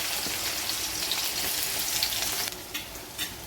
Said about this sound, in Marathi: कांद्याला छान परतून घ्यायचे.